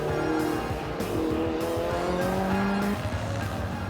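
Bertone-bodied Alfa Romeo GT and GTA coupés from the 1960s–70s race past at a historic road rally, engines snarling loudly with rising and falling revs and tyres squealing through a corner, several cars in quick succession.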